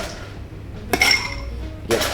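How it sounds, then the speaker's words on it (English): Martini being stirred with ice in a mixing glass, two sharp clinks of ice and metal against glass, each followed by a short ringing tone, close and clear with no voices. "let's get stirring."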